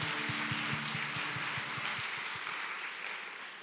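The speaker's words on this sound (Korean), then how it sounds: "우리 그렇게 하실 하나님께 감사의 박수 올려드립시다." A congregation at a Sunday morning service in a Korean university church claps together in sustained applause that fades slightly toward the end.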